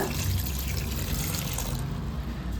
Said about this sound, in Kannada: ಸ್ವಲ್ಪ ನೀರು ಸೇರಿಸ್ಕೊಂಡ್ರೆ ಸಾಕು,